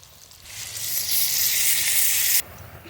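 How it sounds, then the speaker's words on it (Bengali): Eggplant slices frying in a small amount of oil: a loud, close sizzle swells up over about a second, holds steady, then cuts off abruptly, with no talking. "এইভাবে বেগুন ভাজলে বেগুনের ভিতরে তেলটা কম লাগে অল্প তেলেই বেগুন ভাজা হয়ে যাবে"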